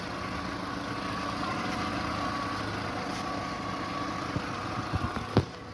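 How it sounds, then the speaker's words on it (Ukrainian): A 2004 Skoda Octavia Tour 1.6 MPI engine idles quietly with a low, even hum, a couple of light clicks and knocks sounding near the end. "Так, працює двигун, дуже тихо."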